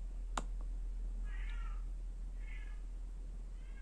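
Domestic cat meows loudly behind a closed door indoors, three drawn-out cries spaced about a second apart over a low steady hum, with a single sharp click early on.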